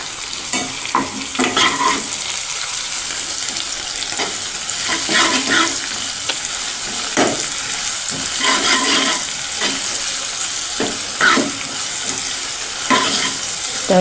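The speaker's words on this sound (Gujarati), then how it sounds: "હવે તેને હલાવીને મિક્સ કરી લઈશું" Okra frying in a pan is stirred with a spoon, giving a continuous bright sizzle and intermittent scrapes against the metal, close and fairly loud, with no talking.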